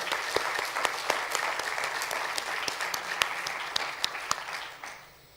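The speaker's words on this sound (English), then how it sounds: "I'd like the NZARE people please to applaud the Aare" Audience at an early childhood education conference gives a sustained round of applause, a dense crackle of many hands with a few louder individual claps standing out, fading away at the end.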